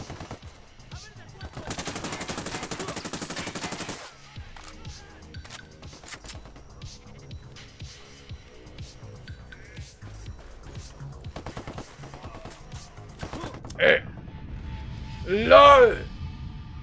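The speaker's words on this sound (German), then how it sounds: "Haben die Dauerfeuer oder was?" Automatic gunfire in the game Ghost Recon Wildlands, with a dense rapid burst early on followed by scattered shots and clatter, someone talking over it, and a couple of louder sharp effects near the end.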